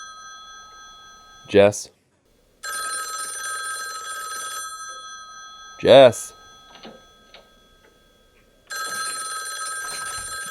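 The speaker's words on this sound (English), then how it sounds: "The phone's not going to answer itself." An old telephone rings in the 1974 horror film Black Christmas, loud electric bell bursts repeating with silent gaps between them, while a voice calls out twice over the ringing.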